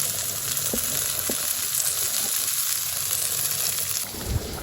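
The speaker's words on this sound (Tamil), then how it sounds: "மட்டன் குழம்பு நல்லா கொதிச்சிக்கிட்டு இருக்குது" A pot of mutton curry boiling with a continuous bubbling sizzle, close and even, with a few soft knocks and no talking.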